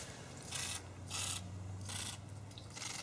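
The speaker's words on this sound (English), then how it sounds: "Spray some brake cleaner in there." Several short bursts of hissing brake cleaner spray, each about a quarter second long, come at irregular intervals into threaded holes on a Kohler Courage engine over a faint low mechanical hum.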